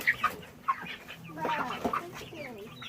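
Several chickens cluck in a backyard, a handful of short, sharp calls up front followed by a busier, overlapping cluster of clucking, close and moderately loud with no speech.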